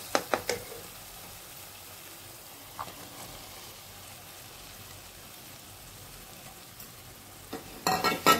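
Cooked chana dal being stirred slowly into hot oil in a pan for a masala curry, a soft steady sizzle and scraping throughout with a few louder clinks near the start and end.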